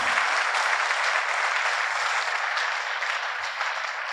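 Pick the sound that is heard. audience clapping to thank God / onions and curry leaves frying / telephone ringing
audience clapping to thank God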